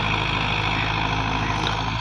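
A Belarus MTZ 50 tractor pulls a 5-tine chisel plough, its engine a steady, loud, close drone that holds without a break from start to finish.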